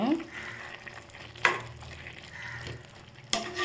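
A pan of potato masala for poori is stirred, with scraping spoon strokes and a soft sizzle under a low steady background, two sharper scrapes standing out.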